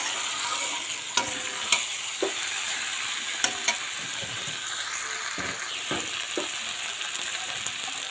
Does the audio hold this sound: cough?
no